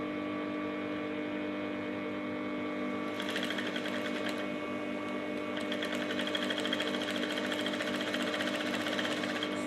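A sewing machine runs steadily and close up, stitching the side seams of a lapel top, with a continuous whirring hum that grows a little busier and louder partway through. No one speaks.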